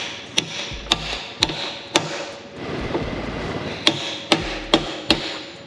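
Hammer blows tapping an outer suspension sleeve into a BMW F22 M240i, about ten sharp metallic knocks in uneven pairs and groups, close and loud with workshop quiet between.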